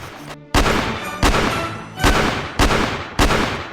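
Five heavy gunshot blasts from a Roblox video game boom at uneven intervals, each sharp crack followed by a rumbling tail, loud and close with no voices.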